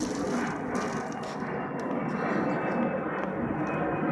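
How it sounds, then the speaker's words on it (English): A fixed-wing airplane passes overhead, a steady far-off broadband engine roar that fills the whole clip. "Got a plane going over me"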